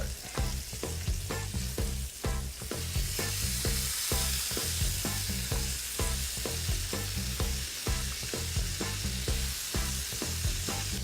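Oxtail pieces being flipped as they fry in hot oil, giving a loud, continuous sizzle broken by rapid clattering scrapes and bubbling crackle throughout, with no voices.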